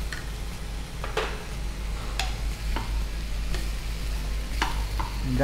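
Ingredients for a ridge gourd gravy frying in a pressure cooker, a continuous moderate sizzle over a low hum, broken by intermittent scraping and tapping stir strokes.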